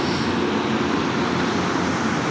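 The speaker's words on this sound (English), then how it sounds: "So yan yung engine." A large power plant engine runs in a steady, loud, unbroken roar that fills the whole stretch with no pauses and no voices.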